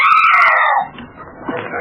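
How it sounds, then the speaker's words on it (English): A woman's shrill, wavering scream in a crowded lecture room, loud and close for under a second before falling into commotion and low noise. "In the very last row, a woman screamed and tried to dart out the door."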